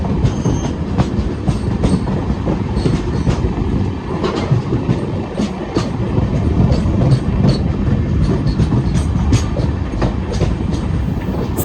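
Rani Kamlapati–Mysuru summer special express running after a long halt, a steady loud rumble of wheels and carriages with rhythmic clickety-clack over rail joints throughout.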